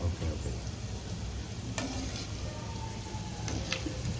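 Gulab jamun balls fry in a pan of hot oil, giving a dense, continuous sizzle and bubbling throughout, with a few faint clicks on top.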